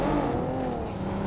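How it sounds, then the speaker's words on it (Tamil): Car engine in a video game approaching and passing by, a steady continuous drone held at moderate loudness through the short stretch. "டென்ட்ல இப்ப தான் வண்டி வருது"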